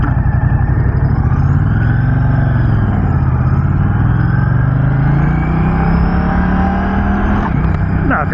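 A Moto Guzzi V100 Mandello motorcycle in sport mode is heard from the rider's position, engine droning loudly and steadily with pitch rising and falling through gear changes, under strong wind rush and some talk.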